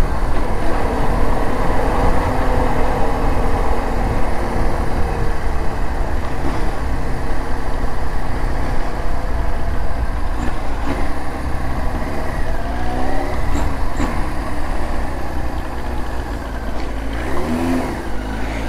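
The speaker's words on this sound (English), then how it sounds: "noise of carburetor bikes are so good." A Kawasaki KZ1000 carbureted motorcycle engine runs loud and steady from start to finish, a continuous low rumble with a few rising revs near the end and no talking.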